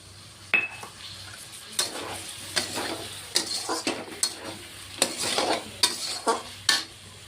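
Ground cashew paste frying with spiced masala in a pan, stirred by a utensil in a series of repeated scraping clatters and clinks over a low sizzle, close by with no talking.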